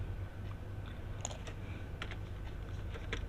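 A computer keyboard is tapped, including the Enter key, in a few light, quick clicks scattered through a soft, steady low hum, nearby and quiet.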